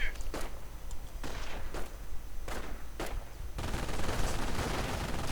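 A half-track's machine gun fires on riflemen in a war video game, shown as several short clattering bursts followed by a denser stretch of rapid fire, moderately loud, with no voices.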